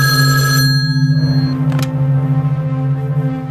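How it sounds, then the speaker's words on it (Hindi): An intercom telephone rings in a hotel room, a loud close electronic trill with a brief gap and a short click partway through, repeating tone without any voices. "फिर कमरे नंबर 202 से इंटरकॉम फोन बजा।"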